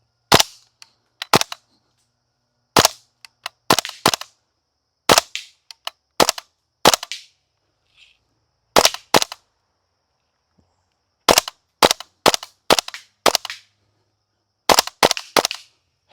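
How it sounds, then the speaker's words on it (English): WE L85 gas blowback airsoft rifle fired at targets downrange, sharp loud cracks mostly in quick pairs with brief pauses between, close and clear with no talking. "As fast as the L85 and I can handle 2 shots on all 6 targets downrange."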